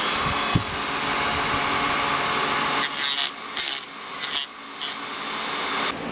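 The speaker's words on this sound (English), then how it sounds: "So let me fire up the moto tool to show you what I'm talking about" A rotary moto tool grinds at very low speed during a carburetor rebuild on a 1966 Ford Thunderbird, giving a steady low whir broken by several short, bright scraping bursts as the wheel touches metal.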